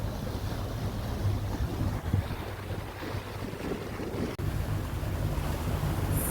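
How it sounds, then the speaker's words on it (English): Wind buffets and waves wash steadily around a moving boat on the open Gulf between Crystal River and Tarpon Springs, a constant loud rushing roar with a brief dip near the end. "Rolling huge waves."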